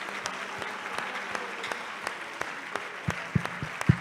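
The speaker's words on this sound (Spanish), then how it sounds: "quiero que le dé un fuerte aplauso al Rey de la Gloria." A church congregation at an evangelistic service in Houston gives scattered applause: sparse individual hand claps, irregular and moderately close, with a few louder ones near the end.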